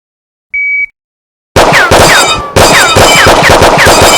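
Simulated gunfire from a Laser Ammo Smokeless Range training system: a short electronic tone, a pause, then rapid loud bursts of machine-gun-like fire with whizzing ricochet effects, close and dominant.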